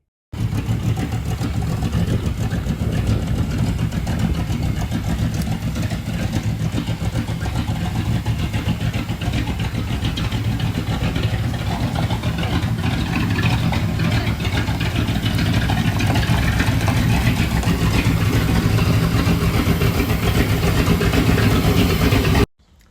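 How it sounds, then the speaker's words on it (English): A truck's 5.2 LS V8 engine running steadily after a camshaft replacement, a loud, close, continuous idle rumble with a slight rise in revs, heard alone without talk. "after a long 2 months and a whole bunch of money thrown into this truck, she's finally running"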